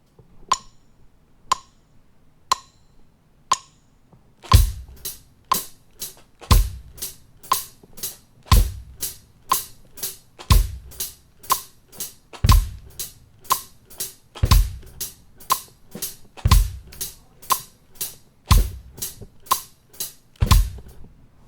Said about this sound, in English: all you need to do on those counts is just hit the bass drum right in time with the hi-hat